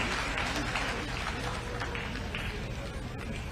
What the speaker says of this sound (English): A louder hand clap for that very wonderful offer